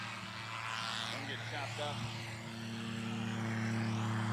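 Zlin Norden light aircraft landing on a runway during an EAA land and take-off competition: a steady propeller engine drone with a shifting, whooshing tone as the plane passes, fairly close, with a voice talking at times.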